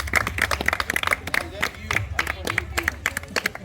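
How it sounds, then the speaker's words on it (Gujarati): A small group of people claps unevenly, with loose repeated hand claps close by and some voices murmuring underneath. "તાળીઓ પાડો"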